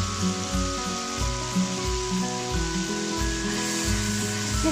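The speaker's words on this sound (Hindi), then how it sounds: "ऑयल हमारा ऊपर आ जाए, मसाला हमारा अच्छे से भून चुका है।" Masala with salt, black pepper and white vinegar for chicken angoori sizzles steadily in a pan, a constant close frying hiss with music playing underneath.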